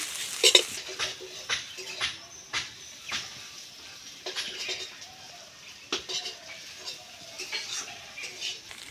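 Grated potato and egg with onion, chilli, garlic and ginger being stirred and mixed, giving intermittent spoon taps and scraping clinks against a bowl in uneven strokes, fairly close and quiet.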